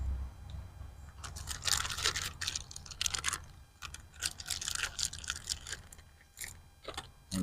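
Crinkly wrapper rustles and crisp crunching come from MRE Chiclet gum being opened and chewed up close, irregular bursts of crackle in a quiet room.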